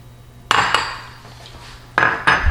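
A bowl clatters against other dishes in a home kitchen during dressing preparation for an avocado-mango lettuce wrap, with two sharp clinking bursts, a quiet pause, then two more close, bright knocks.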